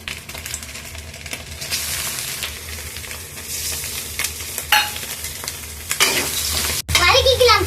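Prawns sizzle in hot oil in a home kitchen pan for mixed fried rice, a dense close frying crackle with bursts of spattering and scraping stirs, growing louder toward the end, and no talking.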